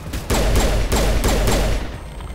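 Sci-fi gunfire in the Mass Effect video game: several loud, rapid bursts of weapon fire follow one another closely, then fade into a quieter tail, with no talk over them.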